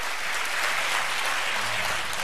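Dense, continuous audience applause, a steady wash of many hands clapping at once, fairly loud and even throughout with no voices standing out.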